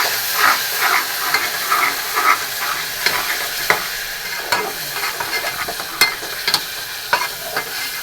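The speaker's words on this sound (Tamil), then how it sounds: "இப்போ இந்த இஞ்சி பூண்டு பச்சை வடை போகிற அளவுக்கு வதக்கிடுவோம்" Ginger garlic paste sautés in a hot pan for chana masala, a constant frying sizzle and hiss broken by irregular scraping stirs of a spoon, close and alone with no talking.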